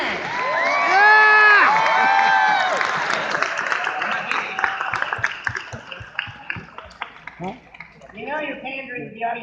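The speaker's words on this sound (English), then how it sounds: "Clap if you're human." Comedy audience claps and cheers at once: loud whooping and shouting up front, then scattered hand claps thinning out, voices rising again near the end.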